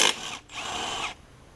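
Power tool spinning off a 9/16 bolt beneath a Craftsman push mower with a Tecumseh OHV engine: a short burst, a brief pause, then a steady whirring run of about half a second that cuts off, close and fairly loud.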